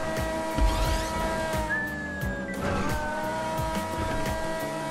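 An alien car in a GTA Online race, its engine droning with a rising whine and brief tire squeal, close and steady throughout.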